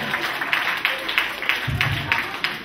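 Applause for a boys' choir at a school open lesson comes as quick, close clapping in a steady rhythm, with a voice speaking over part of it.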